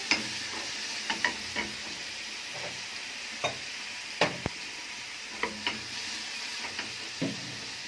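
Minced garlic fries in hot fat as a tasha for molokhia, giving a faint, steady hiss broken by scattered crisp pops and crackles.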